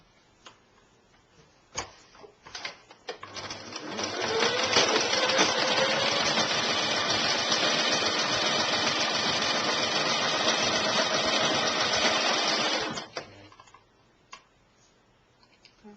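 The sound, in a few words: sewing machine stitching a maxi dress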